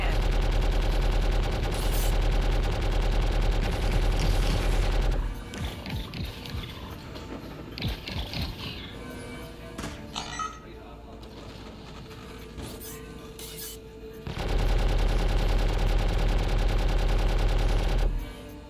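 Gunfire from a Star Citizen battle against the Xenothreat: dense, rattling bursts of weapon fire with mechanical clatter, loud at the start and again near the end, thinning in the middle where voices and radio chatter come through.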